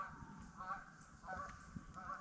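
Geese honk repeatedly in the distance at a truck campsite, faint nasal calls recurring every half second or so over a low outdoor background.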